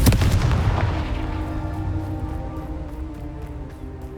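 A Confringo blasting spell from Hogwarts Legacy bursts with a loud, booming explosion at the start, then rumbles and fades over a few seconds with lingering crackle and scattered impacts.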